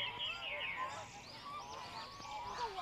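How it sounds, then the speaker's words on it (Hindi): White ducks at Karachi Zoo give faint, overlapping honking quacks in short bursts against a soft crowd murmur. "बहुत प्यारी सफ़ेद सफ़ेद बत्तखें, बहुत देखने में अच्छी लग रही थी"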